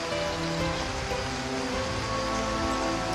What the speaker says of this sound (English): Leaves and bromeliads capture most of the deluge.